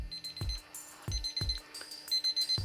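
A kitchen timer alarm goes off in a quiet room with a series of sharp electronic beeps. The beeps come in uneven bursts, and each one is followed by a low thump.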